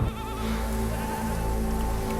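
A herd of about forty goats bleating on a film set, several wavering cries that overlap against a constant, rain-like background hiss.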